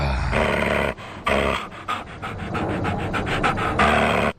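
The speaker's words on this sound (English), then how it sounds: "you freaked out my dog" A dog pants loudly and steadily up close, quick rhythmic breaths running throughout with brief pauses, no other sounds over it.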